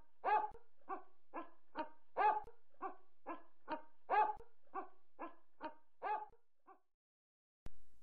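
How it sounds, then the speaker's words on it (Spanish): A dog barks in a quick, steady series of about a dozen sharp yaps, close by, then goes quiet. "Soy el perro."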